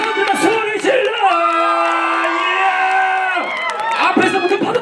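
A cinema audience at a surprise stage greeting by a film's director and actors shouts and cheers loudly, a sustained crowd roar with whoops and yells rising and falling, close and filling the room.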